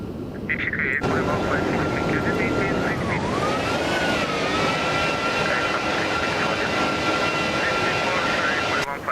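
Jet engines on an Airbus A330 roar loud and steady from an outside view in the X-Plane 12 flight simulator, with a continuous whine that wavers slightly in pitch midway.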